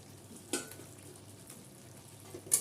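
Soft vegetables and boiled potatoes for Bengali bhangachora sukto being stirred in a pan, a faint low sizzle with a couple of brief spoon clinks, quiet and close, no talk.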